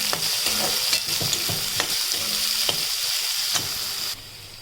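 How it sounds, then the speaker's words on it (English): Finely chopped onions fry with green chilies in a pan, a loud continuous sizzle broken by regular scraping stirs of a spoon, easing slightly at the end. "Now add finely chopped onions to it and fry it."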